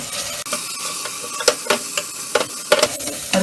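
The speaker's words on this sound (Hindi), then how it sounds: "कड़छी लगातार चलाएंगे और टमाटर को नरम होने तक भूनेंगे" A ladle stirs spices and tomatoes frying in ghee for masoor dal tadka, giving a hissing sizzle broken by repeated scraping clinks against the pan at close range.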